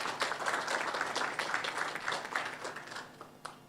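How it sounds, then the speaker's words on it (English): Audience applause at a nurses' conference, a fairly faint, even patter of many hands clapping that thins out toward the end. "I am going to ask you to give a round of applause for Mark and THO."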